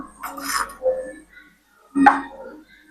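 A metal lid is set over a pot of coconut-milk fish curry made with sour mango, with two clattering clinks of metal on metal about a second and a half apart, close and fairly loud.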